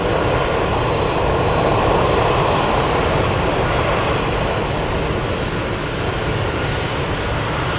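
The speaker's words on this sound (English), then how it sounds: "We have the Alaska 737 taxiing on Sierra." Alaska Airlines Boeing 737 jet taxiing at Anchorage airport, a steady, loud broadband engine roar that holds evenly throughout, with no voices.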